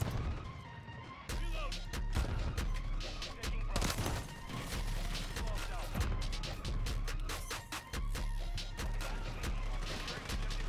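Rapid bursts of MP7 submachine gun fire in Modern Warfare 3, with dense crackling volleys and sharp impacts that repeat almost without pause, while a voice talks over the shooting.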